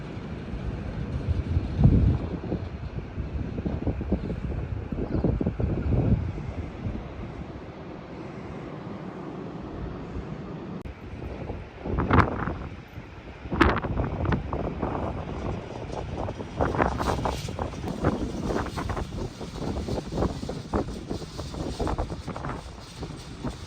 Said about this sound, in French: Beaucoup de vent, donc pas très agréable